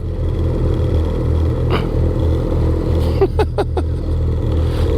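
A snowmobile engine rumbles steadily on a forest trail near Cochrane, low and continuous, with a few sharp clattering knocks near the end as the machine pulls away.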